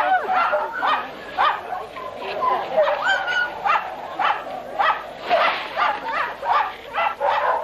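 Huskies on an Antarctic expedition bark, yip and whimper in a continuous restless chorus of overlapping cries, fairly close, with a voice speaking over them.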